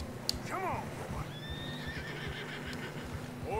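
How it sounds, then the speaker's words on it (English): Horses in Red Dead Redemption 2 whinny loudly several times over steady hoofbeats on a narrow snowy trail, with someone speaking briefly alongside. "Horses are getting tired."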